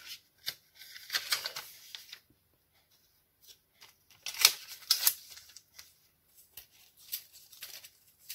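Paper being cut with scissors for an art journal scrapbook page, sharp crisp snips and rustles in irregular bursts separated by near-silent gaps, close and moderately loud with no talking.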